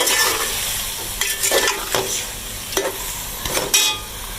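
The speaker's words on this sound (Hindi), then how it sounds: "चलिए जैसे मसाला भुनता फिर आपको दिखाते हैं।" Masala spices frying in hot oil for Pakistani dal gosht, a steady close sizzle broken by several scraping stirs of a spoon against the pot.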